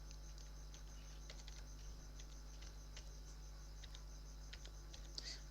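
Password typed on a computer keyboard under Linux Ubuntu, soft scattered key taps at an irregular pace over a low constant hum, faint and close.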